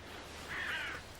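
Crows in a Russian forest giving a single short, harsh caw, moderately close against a quiet background hiss.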